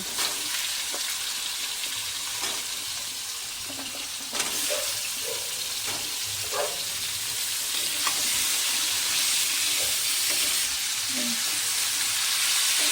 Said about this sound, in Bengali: এগুলো একসাথে আর একটু ভালোভাবে ভেজে নেব।